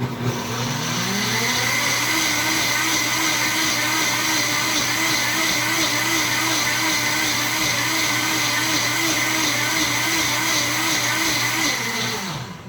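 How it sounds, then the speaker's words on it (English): A Vitamix blender runs on cookie ingredients, a loud steady motor whine with a rising pitch as it spins up at the start, holding constant throughout and winding down at the end. "And then I am going to spin all of this in my Vitamix."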